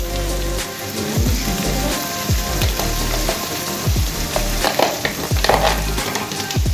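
Boiled potatoes fry and sizzle in a pan for vegetarian aloo dum, a steady crackling hiss broken by repeated scraping knocks of a spatula stirring, close and fairly loud with no talk.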